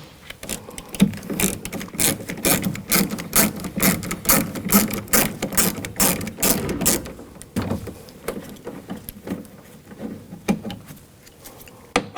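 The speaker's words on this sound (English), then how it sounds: "Use a 10mm socket. We're going to take these screws out." A 10mm socket wrench ratcheting screws out of the door of a 2000-2006 BMW X5, a fast run of close, regular mechanical clicks that thins into slower scattered clicks, no talk.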